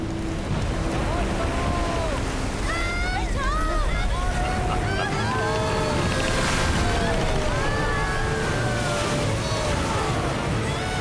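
Wind and waves roar around a boat in a storm at sea, a loud continuous wash with gusting noise, while whistling tonal sweeps drift over it and voices seem to be present.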